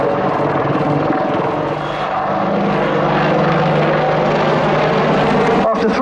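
An Apache attack helicopter flies a bunt manoeuvre during a flying display at Yeovilton Air Day, its engine and rotor drone loud and steady throughout, with a brief dip near the end.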